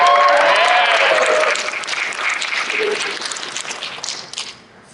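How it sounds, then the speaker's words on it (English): Applause from a horror festival panel audience, a loud burst of clapping that starts at full strength and fades over a few seconds, with a faint voice and light crowd murmur underneath. "Cheap applause at once every time."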